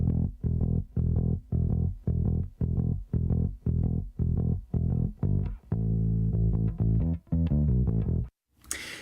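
Direct-input bass guitar line out from a bass amp head, a dry, loud run of evenly repeated plucked notes in a steady rhythm, shifting to a busier phrase before a brief pause, with no voices.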